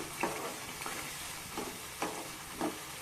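Masala with chili powder and pepper fries in a pan, a steady close hiss and sizzle broken by periodic scraping stirs and small splutters, with no talking.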